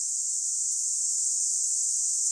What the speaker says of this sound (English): that's the sound of a 1 solar mass main sequence star